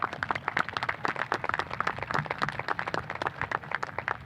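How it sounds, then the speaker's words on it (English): Audience at a 2021 high school commencement ceremony clapping for the graduating seniors, a steady patter of many hands filling the hall without pause. "an extra round of applause. Let's give it to them right now"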